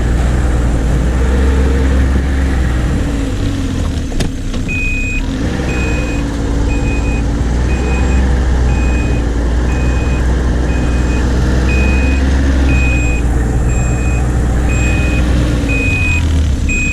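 A vehicle backing up with a loud engine rumble underneath and a regular electronic reversing beep sounding in even pulses for most of the stretch.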